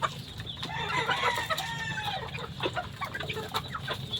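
Gamefowl, including a pullet flock, clucking and crowing close by, with overlapping cackles and a drawn-out crow over a low farmyard rumble, no talking.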